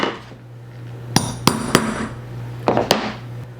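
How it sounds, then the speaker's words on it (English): A hammer strikes a center punch on a mower spindle housing, five sharp metallic taps in two quick groups, close and ringing over a low steady hum from nearby machinery. "I'm just going to center punch it."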